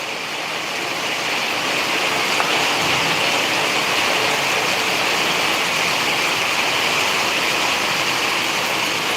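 Sudden heavy rain pours down in the town of Madurai as a dense, steady roar of water, loud and close, like a waterfall, with no voices.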